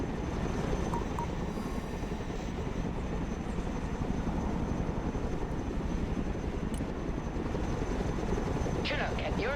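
A video game's Chinook helicopter flies with a loud, constant rotor and engine roar that fills the whole stretch. A brief radio-style voice cuts in near the end.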